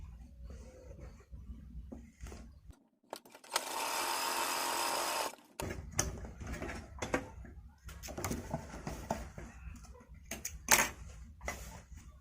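A sewing machine stitches the seam of a baby A-line frock panel, running in one steady buzzing burst of about two and a half seconds, surrounded by quieter handling and fabric noises.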